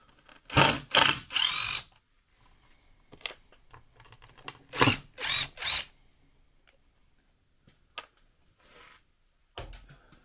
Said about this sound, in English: screwing the template down to another piece of plywood